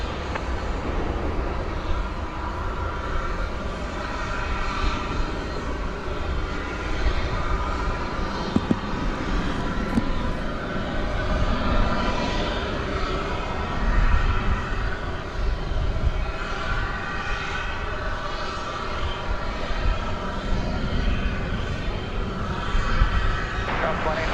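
A heavy jet, a UPS 761 cargo plane, departs DFW Airport on a night flight to Ontario, a steady broad engine roar that holds loud throughout, with faint radio-style talk underneath.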